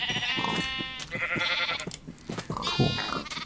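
Several sheep in Minecraft bleat over and over, overlapping and close, with short wavering cries repeating through the whole stretch and no speech.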